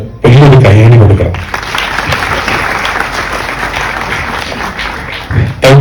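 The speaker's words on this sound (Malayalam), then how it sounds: "ആ ധൈര്യത്തിന് എനിക്ക് വേണ്ടി നിങ്ങൾ വലിയൊരു കയ്യടി കൊടുക്കണം" A large audience at a film trailer release and press meet breaks into loud, sustained applause after a brief spoken introduction, the clapping dense and even until it fades near the end.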